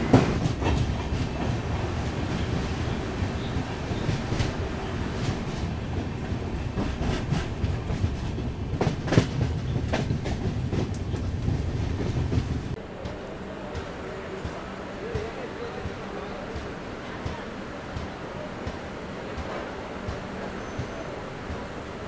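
Passenger train rolling on rails at Shoranur Junction in Kerala, a continuous low rumble with rhythmic wheel clatter that drops abruptly to a quieter hum partway through.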